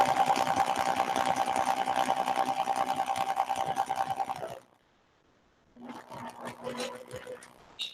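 A sewing machine stitches through a quilt in a steady, fast run for about four and a half seconds, stops briefly, then starts again more unevenly near the end.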